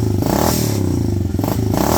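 A 2003 Suzuki DRZ110 dirt bike engine revs briefly and drops back toward idle, a loud, steady single-cylinder putter with rising and falling pitch close by.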